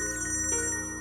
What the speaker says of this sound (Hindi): हेलो हेलो भाई साहब, आपका फोन बज रहा है।